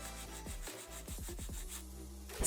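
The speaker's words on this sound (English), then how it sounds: "Holding the finger securely, file straight out from the nail groove." A nail file rubs against an acrylic nail in quick, close scraping strokes, a dry rasping texture that runs steadily with no talking.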